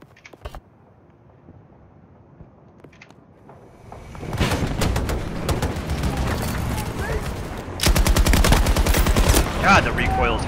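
Battlefield 2042 gunfire with heavy recoil: after a quiet start with a few isolated shots, dense automatic bursts erupt and swell louder toward the end, loud and close, with voices talking over the firing.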